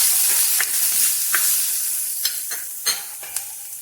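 Protein salad ingredients stirred in a pan over a gas stove, with a steady sizzle and hiss and a few sharp scraping strokes of the spoon against the pan close by.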